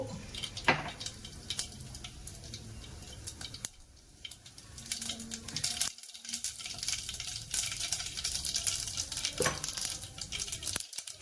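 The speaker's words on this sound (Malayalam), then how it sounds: "അപ്പം നമുക്കിനി നമ്മുടെ ചട്ടണിക്ക് കടുക് വറക്കാം." Mustard seeds splutter and crackle in hot oil for a chutney tempering, with scattered sharp pops and sizzling alongside faint clinks of a utensil, irregular and moderately close, no talking.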